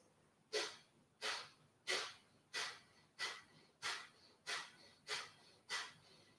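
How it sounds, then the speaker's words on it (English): Rapid, forceful nasal exhalations of the breath-of-fire (Kapalabhati) yoga breathing technique: nine sharp, evenly spaced huffs about two thirds of a second apart, close and clear with no talking. "So we'll do a breath of fire."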